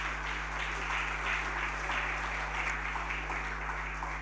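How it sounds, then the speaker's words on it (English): Audience at a sports awards ceremony applauding the nominees, steady sustained clapping from a large crowd throughout, dense and even over a constant low hum from the hall's sound system. "Once again, give all the nominees a round of applause."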